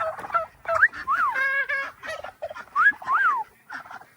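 A turkey gives several rapid, warbling gobbles in short bursts, close and clear.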